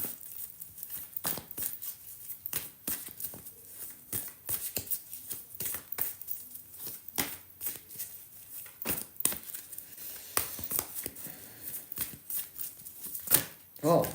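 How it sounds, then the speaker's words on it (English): Tarot cards are shuffled by hand in a live reading session, giving a run of quick papery riffles and soft slaps that repeat steadily at close range, quiet in level. "as I'm shuffling the cards for you, Chandru"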